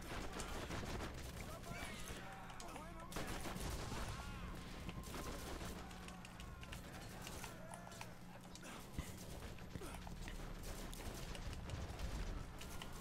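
A deployed turret fires in the shooter game Borderlands, a steady stream of quick rattling shots kept low and distant in the mix while a person talks throughout.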